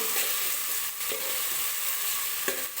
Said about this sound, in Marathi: आता याच्यामध्ये मी टोमॅटो टाकून घेणार आहे.